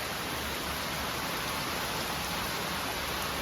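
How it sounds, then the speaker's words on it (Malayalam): Heavy rain pouring steadily, a dense continuous hiss with no pauses, loud and close. "തകർപ്പം മഴ തുടങ്ങി"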